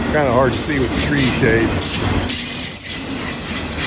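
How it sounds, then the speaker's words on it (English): A long freight train with loaded auto racks rolls past a railside spot in Georgia, making a loud, continuous roar and clatter of cars with squealing wheels. Someone talks over it. "We got a long train here though"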